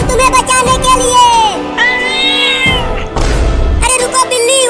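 A cat meows in a Hindi comedy skit, its voice standing out among other loud voices and scattered background noise.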